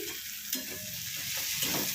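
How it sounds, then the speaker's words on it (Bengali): Onion frying in a pan gives a steady, close sizzle, with the scrape of a stirring utensil running through it for the whole short stretch. "ভালো করে পেঁয়াজটা ভেজে নিয়ে ফেরত আসি। খুলি দেখি, একবার নেড়ে দিয়েছি,"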